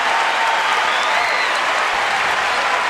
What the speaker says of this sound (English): They're self-clapping.